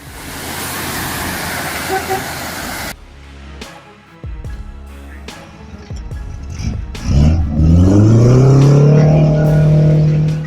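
A nine-axle off-road truck ploughing through a mud pit, a loud rushing splash of churned mud and water that drops away, then the engine revs and rises in pitch as the truck pushes on, with voices heard.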